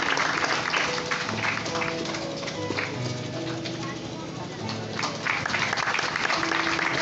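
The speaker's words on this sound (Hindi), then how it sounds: "तालियां" A church congregation applauds at a confirmation service, a full, sustained round of clapping from many people, loud and steady, with a voice and some musical tones underneath.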